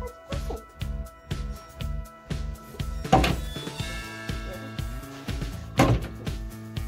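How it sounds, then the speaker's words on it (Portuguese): A door being opened to let a pet ferret in, with repeated wooden knocks, thunks and rattles of the door, some clattering, and a voice speaking in between. "Deixa eu abrir a porta pra ele."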